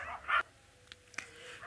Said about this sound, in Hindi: कुछ कुत्ते भौंक रहे हैं तो उसकी आवाज़ें आप तक जा रही होगी